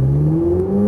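A sports car's engine revs up on a Las Vegas race track. Its pitch climbs steadily in one smooth, loud, close pull with a whirring drone.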